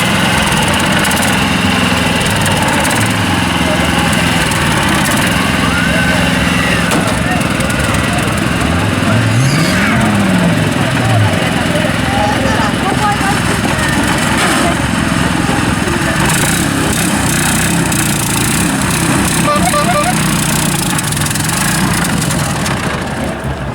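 A small engine runs loudly and steadily throughout a long stretch, with slight unevenness in its drone as it labours under load, while people talk over it.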